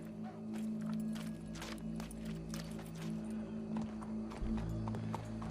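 Horse hooves clip-clop steadily in the Red Dead Redemption 2 video game, set over a constant low in-game drone with occasional brief knocks; no talk is heard.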